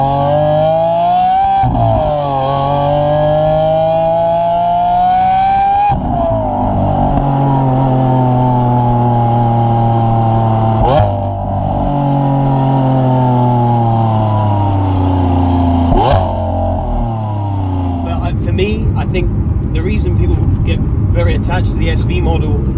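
Lamborghini SVJ and SV Roadster exhausts, loud and close, rising and falling through repeated rev sweeps with sharp throttle blips, closing on a rougher, broadband pass like a fly-by.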